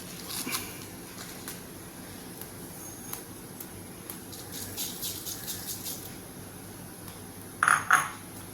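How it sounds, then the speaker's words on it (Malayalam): Mustard seeds crackle in hot coconut oil in a pan for a yogurt and green mango curry, giving sparse faint ticks and pops that build into a louder cluster near the end. "കടുക് പൊട്ടിയിട്ടുണ്ട്"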